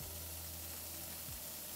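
Shrimp searing in a hot pan, a steady close sizzle of frying with a low background hum, no talking.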